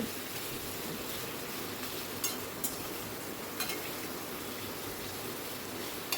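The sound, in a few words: taro pieces being fried and stirred in a pan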